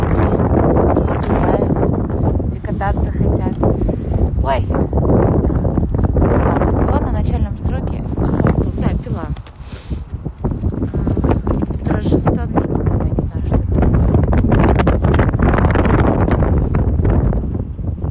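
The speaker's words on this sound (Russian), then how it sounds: "Ну да, такая ветреная очень погода." Strong gusty wind roars against the microphone in a dense, loud rush that barely lets up, dipping briefly near the middle before surging again, with voices faintly beneath.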